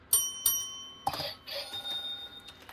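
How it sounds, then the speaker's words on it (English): A small hand bell rings three times in quick succession, each strike bright and ringing out briefly, then quiet room noise with faint movement follows. "Where's my Ding Dings? I got one bell here."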